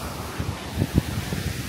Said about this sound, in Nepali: हावा सारा आइरहेछ